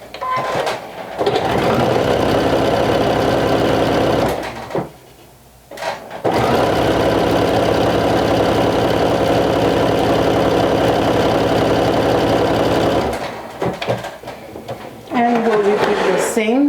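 A sewing machine stitches a seam on a vintage jumper in long loud runs, close-up, stopping briefly near the middle and again near the end, with a few faint handling sounds in the pauses.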